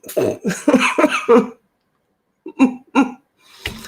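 A person coughs in a quick run of harsh bursts, close up, then pauses before two or three more short coughs.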